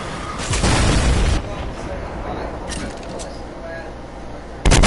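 Fortnite gameplay with an in-game explosion blowing apart an object: a loud booming burst near the start, a lower rumbling stretch, then another sharp, loud blast at the very end.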